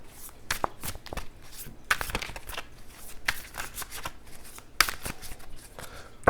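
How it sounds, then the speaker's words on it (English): Neo Rider antique oracle cards being shuffled close up, a quiet run of crisp riffling flutters and soft slaps repeating irregularly in a hushed room. "Now I'm just shuffling these to show you how easy a shuffle it is"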